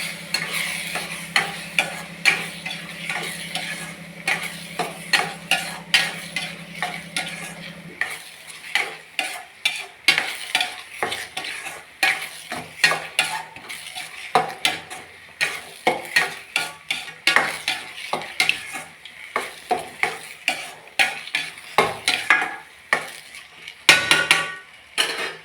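Upma with peas, vegetables and dill leaves is stirred in a pan: a faint sizzle at first, then a steady rhythm of spoon strokes scraping and clinking against the metal, close and distinct, with no talking.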